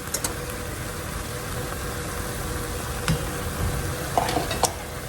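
Beef chili with tomato paste and diced tomatoes stirred in a pot, a low steady simmering hiss under occasional sharp clinks and scrapes of a spoon against the pot rim, near and moderately loud.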